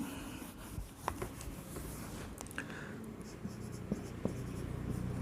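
Chalk scratches and taps across a board during a maths lecture, forming a faint run of short strokes and clicks over a low room hum.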